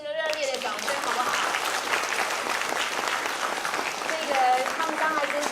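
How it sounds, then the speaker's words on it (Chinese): An audience at a Taiwanese hymn concert in a Northern Virginia church applauds a Taiwanese silk-and-bamboo chamber ensemble, dense sustained clapping at even volume, with a voice briefly audible over it. "我们再给他们一次热烈的掌声，好不好？"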